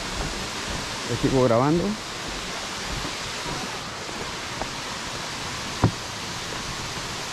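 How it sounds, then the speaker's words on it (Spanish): Minas Viejas waterfall in the Huasteca Potosina, a steady broadband roar of falling water throughout, with someone talking briefly over it near the start and a couple of faint knocks. "Cascada de Minas Viejas"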